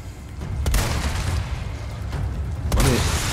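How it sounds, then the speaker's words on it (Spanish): Gunfire and booming impacts ring out in the video game Resident Evil 4 Remake, with a couple of sharp blasts over a low rumbling game soundscape. "¿Y ese disparo cómo no te ha dado,"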